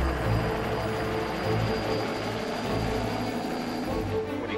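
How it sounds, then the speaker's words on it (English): Helicopter flying low over a vineyard, its steady rotor and engine drone loud and continuous throughout, close overhead with no voices. "We had this gentleman stop by last week offering helicopter services."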